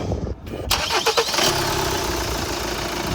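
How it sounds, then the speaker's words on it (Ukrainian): A Kia Sportage 2.0 or 1.7 diesel cranks briefly and catches, then settles straight into a steady, loud idle with a faint whine over the rumble, recorded up close. "Завівся без питань, працює також без питань"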